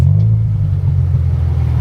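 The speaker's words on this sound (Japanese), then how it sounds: "エンジンだけかけてもらっていいですか？" A VAG sports sedan with an FA engine and an R1 titanium muffler idles with a deep, steady, fairly quiet exhaust rumble, close and unbroken, with no revving.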